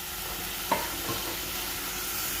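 Pork cooks in a pot with a soft, steady sizzle, and a wooden spoon gives one clear knock and a fainter scrape against the pot; no one speaks.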